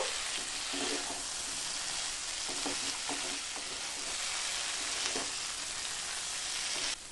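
Soybean chunks, already fried, tumble into a pan of onion and capsicum in a Bengali soybean do pyaza, giving a steady broadband sizzle with a few soft stirring knocks throughout, close and fairly loud, no voices.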